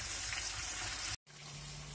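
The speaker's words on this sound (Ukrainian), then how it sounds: "поки м'ясо там смажиться і картопля на маленькому вогні" Meat and potatoes fry in a pan over low heat, giving a steady close hiss and sizzle that cuts out briefly and then resumes, with a low hum beneath the second part.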